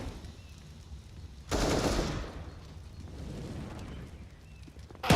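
Gunfire in a Valorant-style online shooter match, heard as a loud burst of rapid automatic fire followed by quieter, more distant shooting, with no voices over it.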